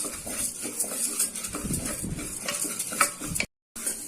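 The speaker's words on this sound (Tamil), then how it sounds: "மீடியம் ஃப்ளேமில் வச்சு வறுத்துக்கலாம்" Moong dal is dry-roasted in a pan over a medium flame, stirred with a spoon so the lentils scrape and rattle against the metal in an uneven, close-up shuffle, with a short gap of silence near the end.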